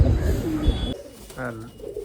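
Pigeons coo in a loft holding breeding pairs and young birds, with several overlapping close calls over steady background noise and faint voices.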